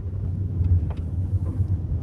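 Inside a manual car slowing down while downshifting, a low steady engine and road rumble hums throughout, with slight shifts in pitch and no speech.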